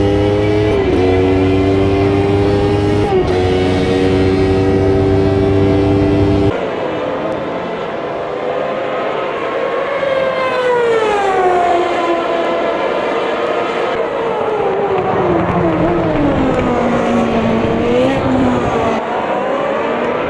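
Formula racing cars, a Honda closing on two McLarens, scream past on a circuit with strong harmonic engine whine, pitch sweeping as they pass through a corner; loud, continuous, no talk.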